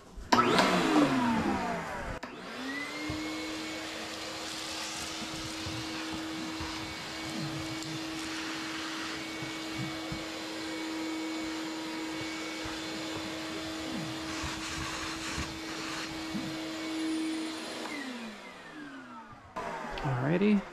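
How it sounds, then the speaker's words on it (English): A vacuum cleaner sucking up guinea pig droppings from a cage switches on with a rising whine, runs in a steady, close drone with occasional rattly sucking noises, then powers down. "I'll go ahead and get my vacuum, go ahead and just suck up the poop"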